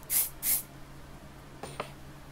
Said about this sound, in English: It's very aerosol. It's not like it's a wet spray.